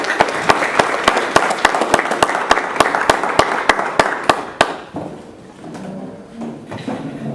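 An audience claps warmly for a speaker being welcomed to a talk, with sharp, evenly spaced beats standing out from the dense applause. The clapping stops after about five seconds, leaving a quieter room.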